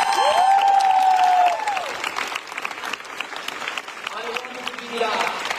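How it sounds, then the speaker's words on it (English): A crowd at a fan meeting in Barcelona breaks into sustained applause and cheering, with a high squealing cheer rising over the clapping early on before the applause carries on at a slightly lower level. "I want to give it up a big applause for you"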